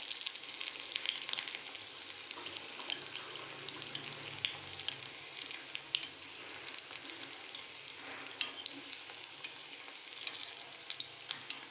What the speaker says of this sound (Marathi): गोल्डन कलर येईपर्यंत आपल्याला त्याला तळून घ्यायचं आहे